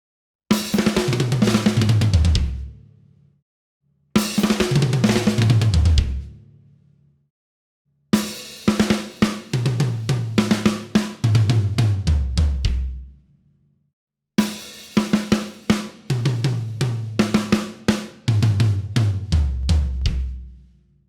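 A drummer plays a drum kit fill from his solo in a song, four loud close bursts of rapid hits rolling down toward deep kick and tom thuds, each ringing out before a short silence.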